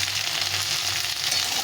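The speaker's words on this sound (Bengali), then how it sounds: "একদম ভালো করে লাল লাল করে ভেজে নিতে হবে" Potato and taro chunks with salt and turmeric frying in oil, a dense, continuous close sizzle with light stirring, no voices.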